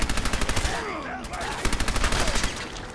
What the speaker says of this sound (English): Oh, I was shooting the wrong person.